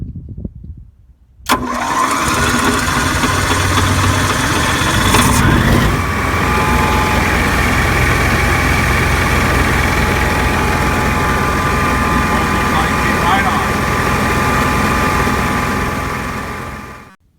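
An Onan generator engine cranks and catches after a short quiet moment, then runs at a loud steady drone with a whining tone for over fifteen seconds before cutting off abruptly at the end.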